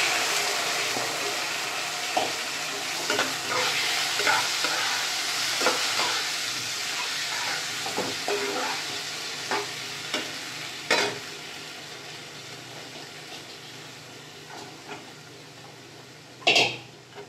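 Asafoetida and peanuts sizzle in hot oil with a dense, steady frying hiss. Scattered pops and crackles and a few utensil clinks stand out, including a sharp knock near the end, with no one talking.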